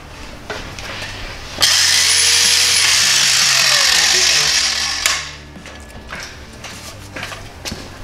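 An Eastwood mini metal saw cuts through thick metal with a loud, steady, high whine. The cut lasts about three seconds, with quieter shop noise and handling before and after.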